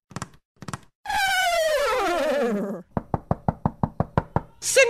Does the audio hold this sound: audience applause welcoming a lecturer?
no